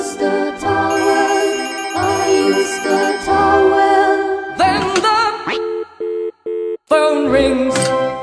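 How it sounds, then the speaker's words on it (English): A cartoon telephone rings in a bright, repeating electronic melody, loud and close, with short gaps between the ring bursts toward the end. "then the phone rings."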